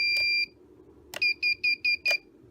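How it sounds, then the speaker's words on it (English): Beeper on a FuriBee Nebula 230 FPV racing drone sounds one long electronic tone, then falls silent, then gives a long tone followed by a run of four short, evenly spaced beeps and one final beep, loud and close. "now my beeper is working"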